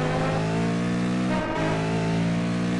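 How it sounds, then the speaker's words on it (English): A V8 Supercar engine accelerates hard through the gears on the Zolder circuit in a racing video game, a steady, loud, close mechanical drone with one brief dip as it shifts up. "Accelerate hard towards the last chicane."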